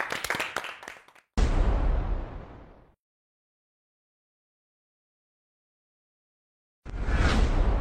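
Audience applause welcoming a guest onto a French-language pitch show, a short burst of clapping that stops abruptly, silence, then clapping resumes loudly near the end.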